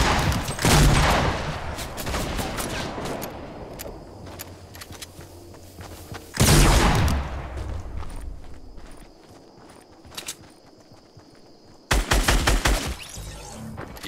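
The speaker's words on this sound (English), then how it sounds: "Hit him with that shotgun!" Loud shotgun blasts in a shooting game, three sharp bursts at roughly six-second intervals, each followed by a long fading tail, with game effects and gear noise in between.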